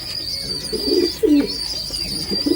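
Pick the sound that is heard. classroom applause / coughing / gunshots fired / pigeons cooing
pigeons cooing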